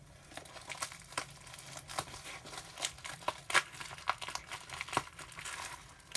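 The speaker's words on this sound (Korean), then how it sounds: "자 그럼 바로 뜯어볼게요" Plastic wrap is torn and peeled off a new first-edition manga volume, giving close, quiet crinkling and crackling with irregular sharp rustles over several seconds, no talking.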